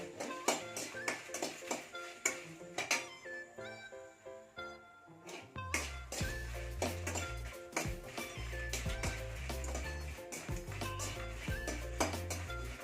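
Cinnamon bark and dried red chilies roasting in a pan, heard as a steady run of light scraping and clinking of a spoon against the metal, with a deeper rumble joining partway through.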